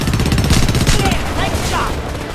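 Rapid bursts of gunfire in the video game Homefront rattle out loud and close, with game sound effects layered over them.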